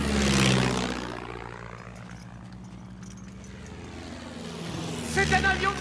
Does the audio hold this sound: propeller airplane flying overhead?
yes